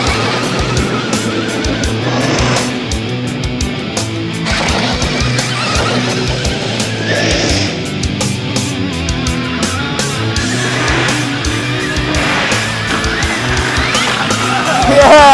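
A motocross bike revs and rides up toward an FMX jump ramp, its engine note rising and falling in choppy bursts with gear changes, close and loud, building to a louder finish.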